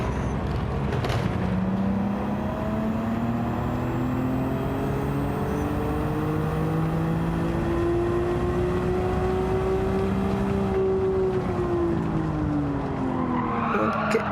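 A car braking hard with tyres skidding and squealing in a long rising and falling screech over steady engine noise, loud and close, lasting most of the moment.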